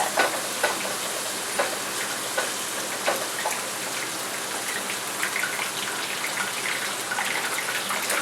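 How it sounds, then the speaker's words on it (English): Onions sauté in a pan, a loud, steady sizzle with crackling pops throughout and faint stirring scrapes, with no speech. "our onions are sauteing"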